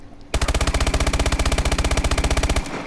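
Rapid sustained burst of automatic fire from an MP11 submachine gun in Call of Duty: Advanced Warfare, loud and close, about two seconds of fast evenly spaced shots ending abruptly.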